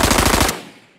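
A designed gunshot effect built with Krotos Weaponiser: a loud, close burst of rapid repeated shots for half a second, followed by a decaying reverberant tail that fades out.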